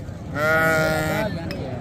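A sheep lets out one loud, wavering bleat close by at a village livestock market, lasting about a second over low background murmur.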